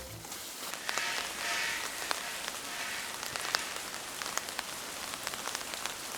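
Steady rain pattering on surfaces outside a Lawson convenience store in Japan near Kawaguchiko, a continuous close hiss with scattered louder drops, no voices.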